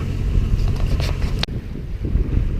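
Wind of about 10 knots rushes across the microphone on a sailboat running downwind on Lake Michigan, a loud, steady buffeting roar with a brief dip partway through.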